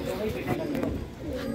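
A pair of white pigeons coo softly on a rooftop during pigeon keeping. Their brief, low calls are mixed with close, continuous talking.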